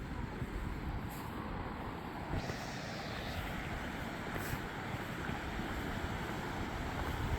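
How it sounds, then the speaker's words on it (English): A creek's steady rushing water fills the scene in Denali, a constant loud broadband roar with no pauses or voices. "This is the water I'm hearing from the top."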